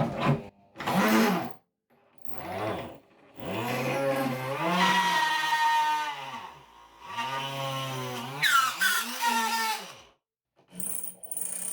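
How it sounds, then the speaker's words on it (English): A motor whines up and down in pitch in several long bursts with short pauses between, close and fairly loud, like a hand-held drill spinning. "spin the drill"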